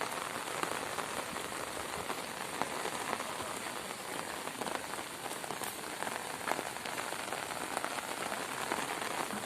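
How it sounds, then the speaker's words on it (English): Heavy rain pours steadily onto surfaces during a creek flood near Port Moresby, a dense unbroken hiss with scattered louder drips and no voices. "and it continued on, and it's still raining"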